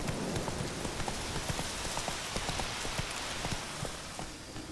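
Hooves of the horse Roach clip-clop at a brisk, irregular pace in The Witcher 3, close and moderately loud over a hissing rain-like wash, with no talking.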